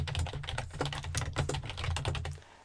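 Rapid clattering keystrokes on a computer keyboard, close and loud, tapping in a quick uneven rhythm with short pauses and no talking.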